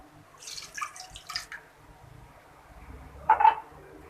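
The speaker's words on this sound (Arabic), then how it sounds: "وغادي نزيد هاد الكويس ديال الماء" A small glass of water poured into a cooking pot with sliced ingredients, heard as a few close splashing bursts early on and a brief trickle near the end, fairly quiet, with no voices.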